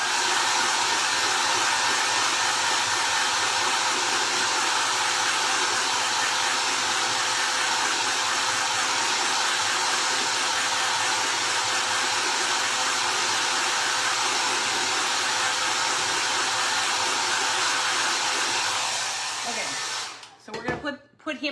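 Hair dryer blows steadily on wet orange paint on a Dollar Tree scarecrow, a loud, constant close-up whir that runs unbroken for about twenty seconds, then switches off abruptly near the end.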